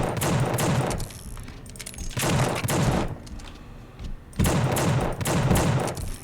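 Gunfire in the video game The Suffering: loud, sustained bursts of rapid automatic shots in three long volleys with short gaps between them and no voices.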